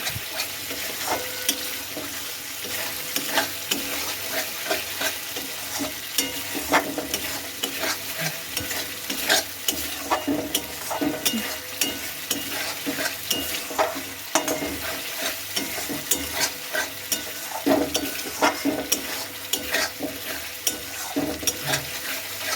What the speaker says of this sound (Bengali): ব্যাস এই মশলাটা ভাজা হয়েই গেল